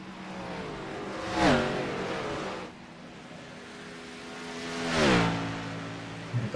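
Race cars in a NASCAR video game at a Homestead-Miami oval roar past the flag stand in two distinct pass-bys, each rising engine tone sweeping down in pitch before fading, with a steady engine drone between.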